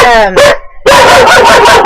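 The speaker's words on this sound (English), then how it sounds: "because this dog just will not be quiet" A dog barks loudly and repeatedly close by. Its barks alternate with a person's voice, and a short quiet gap falls partway through.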